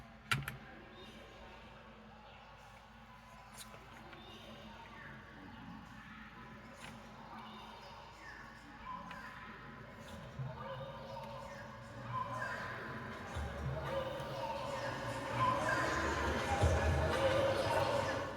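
Modular synth patch built from a clocked delay feeding a vowel-shaping filter and reverb, giving strange, shifting microsound textures and clicks that stay faint and sparse at first, then swell into a denser, louder wash toward the end.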